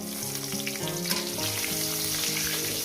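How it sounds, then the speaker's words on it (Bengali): Potatoes frying in oil in a pan for a light rohu fish curry with pumpkin, a steady close sizzle with a few stirring clatters, no voices. "কতগুলো আলু দিয়ে দেবো আলুটাকে মিনিমাম পাঁচ ছ মিনিট আমি ভেজে নেব"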